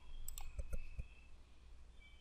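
A few faint, quick computer mouse clicks in a quiet room, three or four light taps close together, with no talking.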